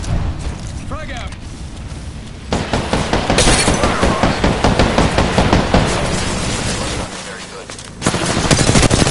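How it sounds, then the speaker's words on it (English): Gunfire in a PS4 shooter video game: loud, dense automatic bursts that run almost continuously, with heavy booming impacts and a brief spoken remark over the noise. "The enemies are shooting at me."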